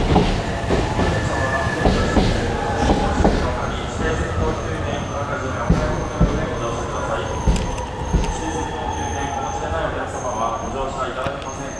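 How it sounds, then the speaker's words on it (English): Thunderbird limited express train pulls into a platform in Japan, a steady rumble with clacking wheels and brake squeal building over several seconds, with people talking nearby. "Looks like our train's turning up"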